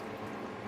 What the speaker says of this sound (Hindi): आधा लीटर पानी और डालना है।